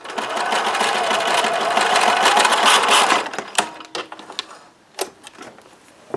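A sewing machine stitches fabric in place before serging, running steadily and fairly loud for about three seconds, then stopping into a few scattered clicks and handling sounds.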